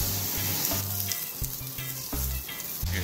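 Asparagus sizzles with shallot oil on a barbecue grill, a steady close crackle punctuated by a few low thuds and scraping handling sounds, with no talking.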